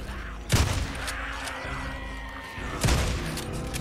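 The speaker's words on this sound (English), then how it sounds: "That's shotgun time." Shotgun blasts in the zombie-horde game Days Gone: two heavy, booming shots about two seconds apart, loud and close, with a low rumbling game backdrop between them.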